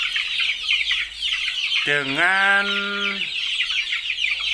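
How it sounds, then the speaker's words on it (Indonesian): About thirty young chicks in a makeshift cage built from an old aquarium, giving a sustained chorus of high peeping cheeps with one louder rising call standing out near the middle, close by, and a brief spoken word over it. "di depan saya kali ini ada kurang lebih 30 ekor anak ayam"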